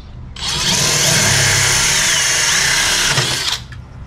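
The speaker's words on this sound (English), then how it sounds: "I'll just drill from this side" A power drill bores through the compressed-foam wall of a new offroad RV van while a composting toilet is fitted, one loud, steady whirring burst lasting about three seconds before stopping, close by with no talk.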